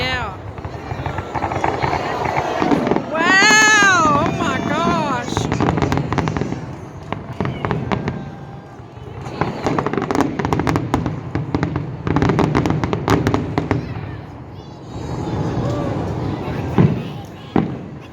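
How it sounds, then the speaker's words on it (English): A New Year's Eve fireworks display at Robin Lake Beach, Callaway Gardens, sends loud, continuous rolling bangs and crackles. Excited voices talk and exclaim over the blasts throughout. "was a beautiful, beautiful fireworks display right here at Robin Lake Beach."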